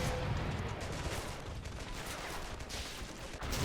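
A warship in a World War II Allied invasion of Italy video game fires its Bofors guns and main gun, a continuous distant barrage of rapid gunfire and heavier booms blending into a dense, rumbling fusillade.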